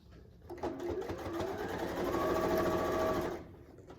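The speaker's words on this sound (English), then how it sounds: "start sewing at 1/4 inch, being sure not to catch the back side of that stocking" A sewing machine stitching a quilt-as-you-go Christmas stocking at a quarter-inch seam, with a steady close mechanical whir that speeds up and holds a continuous hum for a few seconds before stopping.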